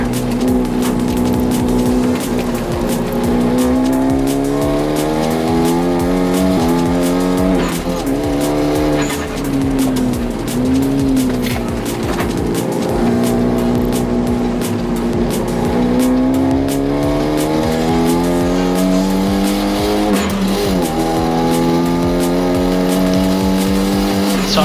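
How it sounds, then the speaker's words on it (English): A Hyundai Genesis Coupe with a freshly built engine races around the Stratotech track, its engine droning steadily and close with rising and falling pitch through shifts and corners, with occasional tire noise and no talk. "So I was catching up to Alex here, so he was just signaling to let me through and just pass him safely before he comes to this next corner."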